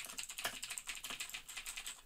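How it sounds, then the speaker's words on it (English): Fingers type quickly on a computer keyboard, a close, quiet run of light clicky keystrokes with no talking. "But if I start typing"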